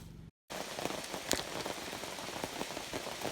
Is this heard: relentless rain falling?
yes